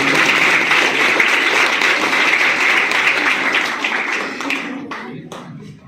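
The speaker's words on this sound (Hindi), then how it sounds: "जोरदार तालियां होनी चाहिए, जोरदार तालियां होनी चाहिए।" Loud, dense applause from a crowd of students at an inter-college motivational seminar, steady for about five seconds before thinning out into scattered claps at the end.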